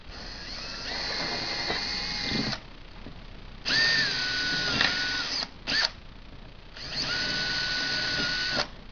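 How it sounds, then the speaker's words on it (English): Power drill enlarging holes to a number 19 size in a fiberglass nosebowl for a Grumman-style two-seater, three main high-pitched whining bursts with a short blip between them, close and loud, separated by near silence. "now we'll enlarge these holes to a number 19, which allows a number 8 32 screw to go through without any problems."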